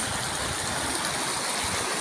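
A clear, rocky river rushes steadily over stones in a continuous broadband wash, close and even throughout with no pauses, near the falls.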